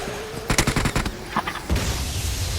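Burst of gunfire in the mobile battle royale game BGMI, a rapid string of about eight close, loud shots followed by a couple more, then a heavier boom and rumbling tail.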